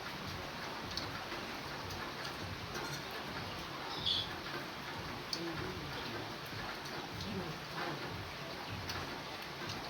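Steady rain falls outdoors in a rural Thai setting, a dense, even hiss across the whole stretch with a few faint ticks and drips and a brief bird-like chirp, with no clear talk over it.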